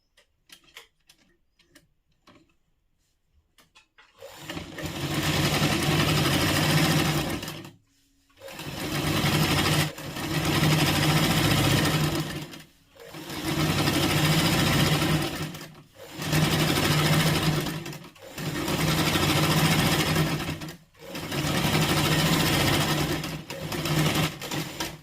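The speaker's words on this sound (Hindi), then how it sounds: "राइट साइड रखते हुए इसकी ठीक किनार पे सीधी तरफ से हमें जो सिलाई चलानी होती है" A sewing machine stitches a fall seam along the edge of a six-panel petticoat. It runs in six rapid, whirring bursts separated by short pauses, loud and close, after a few seconds of near silence with faint clicks.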